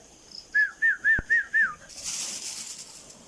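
A person whistles five short, evenly spaced notes in quick succession to call chicks, followed by a soft rustling hiss.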